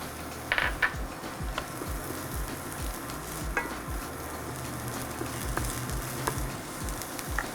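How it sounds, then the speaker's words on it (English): Shallots sizzling and frying in hot olive oil in a pan, a steady close crackle with occasional sharper pops and stirring clatter. "now we're gonna add our shallots."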